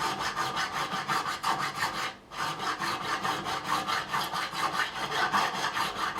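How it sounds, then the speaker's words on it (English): Rhythmic back-and-forth filing strokes during setup of a Faith Neptune Cutaway high-gloss electric guitar, steady and close, with one brief pause midway and no talking. "Sometimes they take a bit of filing,"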